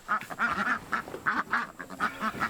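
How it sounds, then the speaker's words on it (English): Laying and breeding ducks kept in electric netting on grass pasture, quacking in quick repeated bursts, several birds overlapping at moderate distance with no pauses. "And for my laying and breeding ducks"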